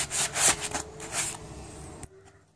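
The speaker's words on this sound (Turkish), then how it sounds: "Normal tutacağım sünger zımpara var" Rapid back-and-forth rubbing of sponge sandpaper against a wooden chair, removing varnish, several scratchy strokes in quick succession, close up, then a quiet pause at the end.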